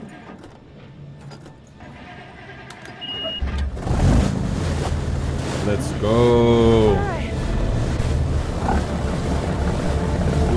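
A motorboat engine in the horror game Man of Medan starts and runs loud and steady across open water, with wind and waves around it and a rising whine near the middle, while people talk over it.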